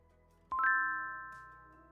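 One bright notification chime from a game-style system in a martial-arts fantasy story rings out once and fades slowly over a faint low background.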